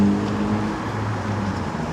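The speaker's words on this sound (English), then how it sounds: "There's the 95 bus," The number 95 city bus idles and moves through traffic at a Toronto intersection on Ellesmere Road in Scarborough, a steady low engine rumble with a broad wash of road noise throughout.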